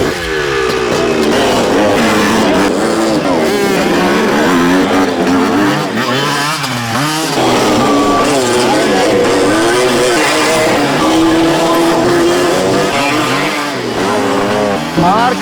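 Motorcycles revving at a biker stunt school: a loud, continuous engine roar whose pitch swings up and down as the throttle rises and falls, filling the whole stretch without a break.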